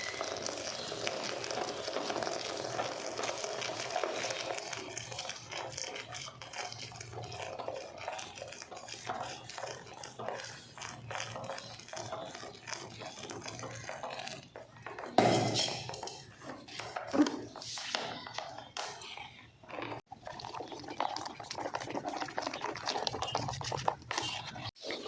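A homemade toilet cleaner of lemon and neem essence is stirred in a container, giving faint continuous scraping and swishing with a few sharper knocks midway.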